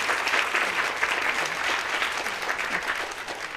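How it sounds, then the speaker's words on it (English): An audience applauds the development staff at an alumni assembly, a steady sustained round of clapping from a crowd that stays even and full for the whole stretch. "Let's give them a big round of applause."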